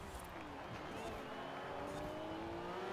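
A TVR and an NSX racing in the video game Forza Horizon, their engines a steady droning whine of a car at speed, moderately loud and continuous throughout.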